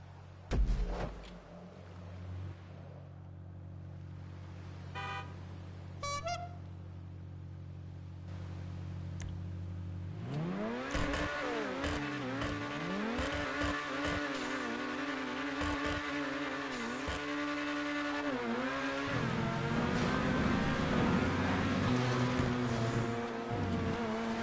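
Cars in GTA V Online race and jump during a stunt race, starting with a low idling hum before a loud engine roar with shifting pitch kicks in around the ten-second mark and carries on steadily.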